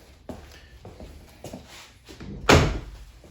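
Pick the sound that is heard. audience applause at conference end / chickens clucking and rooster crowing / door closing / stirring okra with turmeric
door closing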